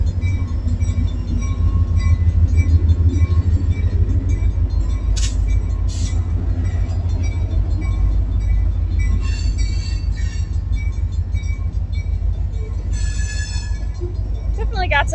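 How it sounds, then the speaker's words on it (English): A freight train rolls past beside the Mississippi River in New Orleans, a steady, loud low rumble with faint rhythmic clatter and a few brief high metallic squeaks near the end. "So this freight train's about to pass our location."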